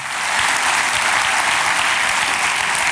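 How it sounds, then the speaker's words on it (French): A church congregation applauds the Lord, a loud, dense and even wash of many hands clapping close by that holds steady throughout. "Applaudissons le Seigneur."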